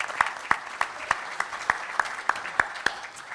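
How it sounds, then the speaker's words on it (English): A small audience at a City Club panel on water and government management gives a sparse, slow round of applause, about ten distinct claps at a steady rhythm, fairly close and moderately loud with no talk over them. "How about applaud MarySue Barrett?"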